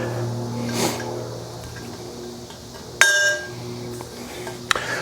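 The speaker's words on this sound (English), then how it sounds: "Begin by lining up the 4 bolt holes in the sleeve with the 4 bolt holes on the center of the bar." The metal sleeve of a Kabuki Strength Kadillac strongman bar clinks as it is fitted onto the bar's center, giving a sharp ringing metallic clang midway and a smaller tap near the end over a steady background hum.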